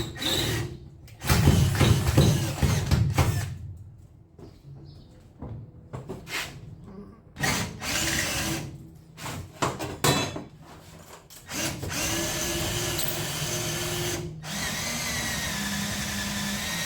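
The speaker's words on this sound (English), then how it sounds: "I'm just going to drill it all the way through with a 1/4 inch drill bit." A 1/4 inch drill bit bores through rivets on a school bus being converted, with bursts of loud grinding and whirring separated by short pauses and clunks of metal handling.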